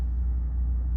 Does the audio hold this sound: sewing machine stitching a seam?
no